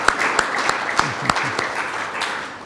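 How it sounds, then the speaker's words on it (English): Audience applause for a business technology panel, a dense, steady clatter of many hands with a few sharper individual claps standing out, filling the whole moment with no talk. "Give them a round of applause, please."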